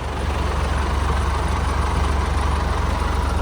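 A tractor engine runs a new seed drill during a dry-season sowing, giving a steady, close, low diesel drone that holds even throughout without speech.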